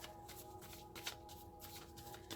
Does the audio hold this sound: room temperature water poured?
no